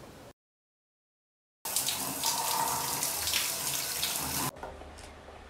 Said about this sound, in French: Je suis rentrée sous la douche.